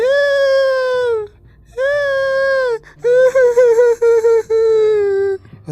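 A cartoon character trapped inside a well cries for help in long, loud wails, then breaks into shorter quavering sobs, with brief pauses between bursts.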